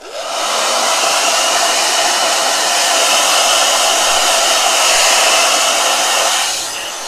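A blow dryer runs steadily and loudly at close range for several seconds with a constant whooshing roar, then shuts off near the end; no talking over it.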